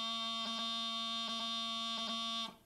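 A bagpipe practice chanter plays a steady reedy tone with quick birl ornaments, short rapid grace-note flicks breaking the held note three times, close and alone before the tone drops away at the end.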